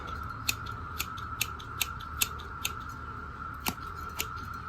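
Scissors snip back a leggy perennial plant in quiet, crisp cuts at an uneven pace, about ten sharp clicks over a faint steady hum.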